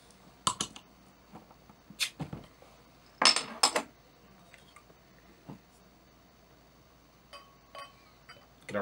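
A bottle of Clown Shoes Extremely Angry Beast, a barrel-aged beer, being opened: a few sharp clinks and a cap pop near the mic, followed by sparse small glassy taps in a quiet room, with no voices.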